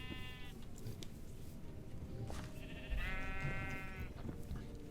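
Sheep in a Minecraft 1.20.1 survival world give two drawn-out, wavering bleats a few seconds apart over steady low background noise, the second bleat a little louder.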